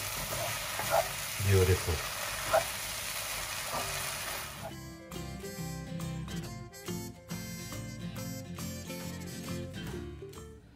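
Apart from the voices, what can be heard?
stir-frying soy sauce noodles with spring onion in a wok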